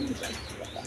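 Pigeons coo at a pigeon sale, a low soft cooing under steady bird calls that fills the whole short moment.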